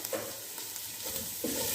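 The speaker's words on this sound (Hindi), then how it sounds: "थोड़ा सा इसको सौते करेंगे" Carrots sautéing in a pot for chicken soup, a faint steady sizzle broken by a few light stirring scrapes.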